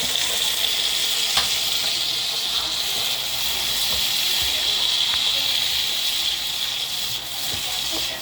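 Garlic, onion and tomato sauté in a pan, a loud steady hissing sizzle that continues evenly throughout, with a few faint clicks and no talking.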